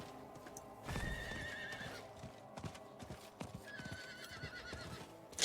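A horse in Diablo 4 trots with steady hoof clip-clops and gives two whinnies, one early and one near the end, all at moderate volume.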